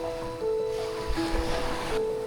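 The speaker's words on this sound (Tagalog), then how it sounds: "Medyo malakas din yung alon, no?" Ocean waves at Playa Pino beach in Bagac, Bataan, a steady washing surf with a swelling rush in the middle, plus a faint tonal hum over the water.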